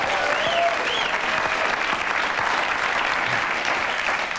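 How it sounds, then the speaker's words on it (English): A studio audience applauds during a talk show, steady loud clapping from many hands running the full length with a few brief whistles on top. "You say things like that, people applaud"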